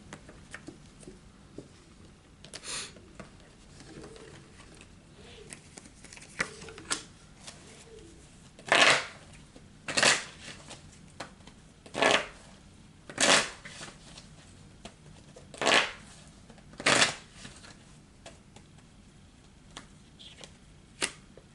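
A deck of tarot cards is shuffled in a series of sharp riffling bursts, about seven distinct shuffles spaced a second or two apart, close and crisp against a quiet room.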